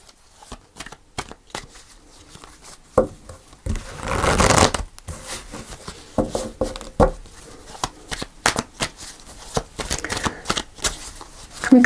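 A deck of tarot cards is shuffled at close range, giving repeated riffling and sliding bursts and one longer continuous shuffle in the middle, with no talking.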